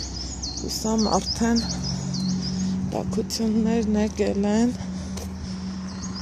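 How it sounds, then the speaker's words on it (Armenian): Small birds chirp in repeated short, high trills over the steady hum of a warm morning, while someone speaks nearby under the birdsong. "ծիտիկների դայլայլի ներքո էլ գնում եմ"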